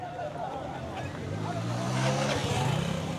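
Fast-moving French gendarmerie vehicles of the European force rush past in a street of the PK5 district in Bangui, a continuous loud engine roar with rising and falling pitch as they go by, mixed with crowd noise.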